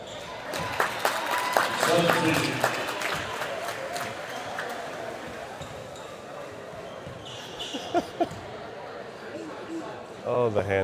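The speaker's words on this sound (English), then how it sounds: "Oh, the hand clapping." Crowd noise in a high school basketball gym during free throws, with scattered bursts of hand clapping, a few sharp claps near the end, under general murmur and voices.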